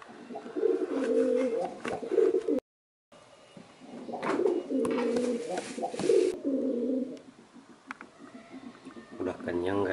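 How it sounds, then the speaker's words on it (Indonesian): Repeated soft, throaty cooing comes from 22-day-old pigeon squabs, in close warbling bursts with a brief silent break partway through. "Ini perkembangan usia merpati yang 22 hari."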